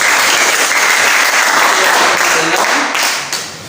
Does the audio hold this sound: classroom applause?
yes